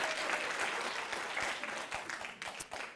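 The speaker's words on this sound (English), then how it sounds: "Give yourselves a round of applause." Applause from a lecture audience at a laughter yoga talk, steady and continuous, with a few distinct individual claps standing out toward the end.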